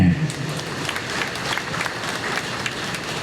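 An audience claps at a Tamil talk on stage, a brisk round of applause from the crowd continuing steadily throughout.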